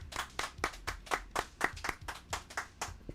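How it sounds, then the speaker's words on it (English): A small group in a morning radio studio claps in a quick, close, rhythmic burst for a guest, each clap crisp and distinct with no talking over it. "Give him a nice round of applause, everybody."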